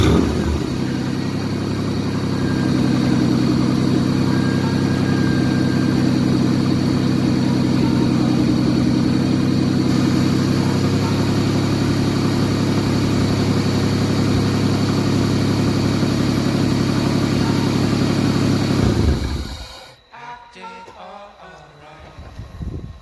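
A freshly rebuilt turbocharged all-wheel-drive Toyota Camry engine idles steadily and loud for nearly twenty seconds after starting, then cuts off abruptly, leaving a quiet whirring wind-down and faint ticking.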